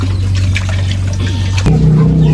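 Water steadily runs and splashes while a child is rinsed during a bath near the sea. A constant low hum underlies the trickle, and the flow grows louder and fuller near the end.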